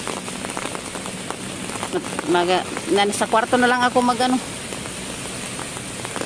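Heavy rain drums steadily on a surface throughout, with someone talking over it in the middle stretch.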